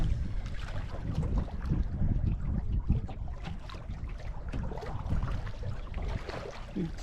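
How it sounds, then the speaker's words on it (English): Steady rushing wind and water sloshing around a sailboat reaching down a lake in a northwesterly breeze, with soft lapping and bumps close by. "There we are. We're sailing."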